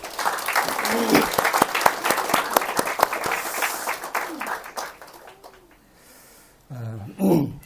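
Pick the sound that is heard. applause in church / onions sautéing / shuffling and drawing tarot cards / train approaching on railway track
applause in church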